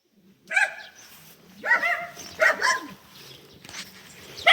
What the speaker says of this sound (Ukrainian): Що ви там гавкають, а?